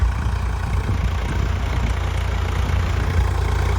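A farm engine motor in the fields idles nearby with a deep, constant low rumble that holds even throughout.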